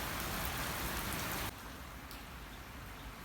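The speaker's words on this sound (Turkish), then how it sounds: "Bazen çiseliyor yavaş yağıyor." Light drizzle falls in a steady hiss of fine drops on outdoor surfaces, louder at first, then dropping suddenly to a softer, even patter.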